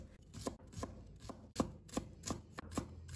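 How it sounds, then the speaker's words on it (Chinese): A knife chops scallion whites into fine pieces on a board with about ten crisp, evenly spaced strikes, close and fairly quiet, with no talking. "把葱白和葱叶分开切，把葱白切成葱末"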